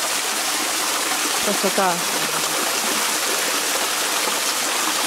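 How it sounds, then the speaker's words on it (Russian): Water trickles steadily down a travertine waterfall and spring in a forest near Stavropol, a constant, close, broadband rush with a voice speaking briefly over it. "Здесь струйки текут."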